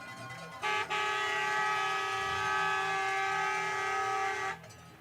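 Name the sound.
train horn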